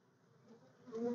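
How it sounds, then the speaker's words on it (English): Honey bees buzz softly around an Apimaye beehive, a low, steady drone that swells louder near the end as a bee flies closer. "That's a lot of bees."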